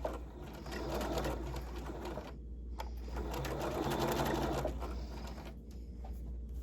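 Sewing machine running continuously while stitching a fabric facing to its lining, a steady rapid mechanical whir close by, briefly pausing twice before resuming.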